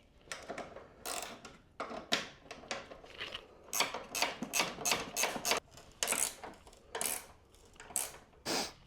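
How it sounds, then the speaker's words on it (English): A ratchet wrench tightens bolts on a coil-over strut for a 2003-2008 Toyota Corolla, Matrix or Pontiac Vibe, producing repeated bursts of sharp metallic clicking in an uneven rhythm, close and without talk. "We're going to be using a ratchet wrench."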